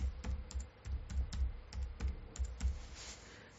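Fingers type a telephone number on a computer keyboard in quick, close clicking bursts of keystrokes, fairly quiet and with no voice over them.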